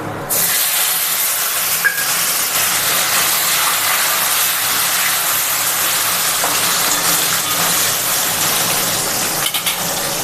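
Chopped tomato hitting a hot pan while cooking a banana-flower curry with potato and chickpeas: a loud, constant sizzling hiss that fills the whole stretch without pause.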